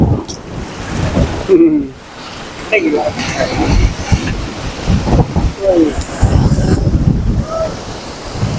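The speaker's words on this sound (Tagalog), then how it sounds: "Ang lakas lang ng hangin." Strong wind buffets the microphone in a steady roar with gusty surges at a seaside boardwalk fishing spot, while waves wash in the background throughout.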